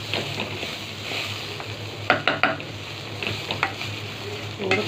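Rice with vermicelli frying in a pan, a steady close sizzle with a few sharp scraping stirs clustered in the middle and near the end.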